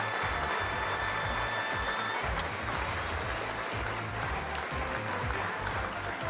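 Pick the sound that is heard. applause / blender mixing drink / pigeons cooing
applause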